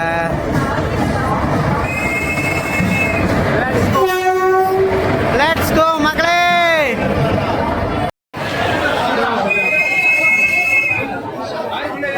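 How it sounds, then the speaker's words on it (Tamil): A train pulls into Tirunelveli railway station with loud, close horn blasts and rumbling wagons. Crowd chatter continues around it and people speak over the noise. "இப்போ தான் ட்ரெயின் வருது"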